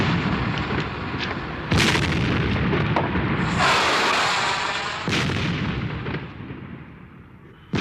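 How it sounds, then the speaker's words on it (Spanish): Fireworks bursting over Valencia: loud, sharp explosive booms at about 2 s and 5 s plus a crackling, fizzing burst near 4 s, over continuous rumbling pyrotechnic noise with no voices. "Fuegos artificiales"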